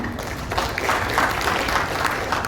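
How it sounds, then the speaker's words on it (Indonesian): A hall audience at a union meeting of PT Sumi Rubber Indonesia applauds Bang Ferry, a thick, continuous patter of many hands at steady moderate loudness with no speech over it. "Itu tepuk tangan untuk Bang Ferry."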